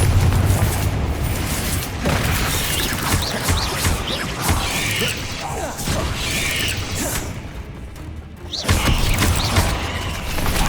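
A Confringo fire spell explodes during hard-mode combat in Hogwarts Legacy, a dense, loud blend of booms, mechanical clatter and crashing effects that holds steady throughout, then swells into a fresh broadband burst near the end.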